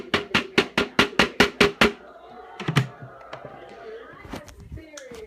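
A vacuum cleaner dust bin is banged hard about nine times in a quick, even rhythm, close and loud, then a voice speaks amid a few scattered knocks.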